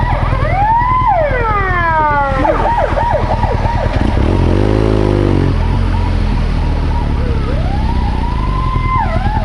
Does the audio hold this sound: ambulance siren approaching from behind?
yes